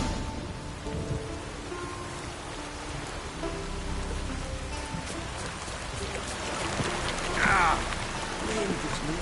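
Steady rain falls in a Witcher 3 game scene, a dense, even hiss that swells slightly near the end, with a low rumble and a brief voice underneath.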